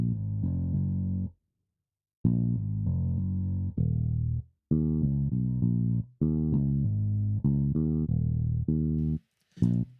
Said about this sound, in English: And then what I did after that is I went ahead and put in this bass.